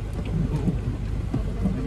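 Rain falling during a typhoon in the Philippines, a steady dense hiss with low rumble filling the whole stretch, no voices heard.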